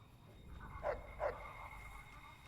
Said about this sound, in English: the fucking dog started barking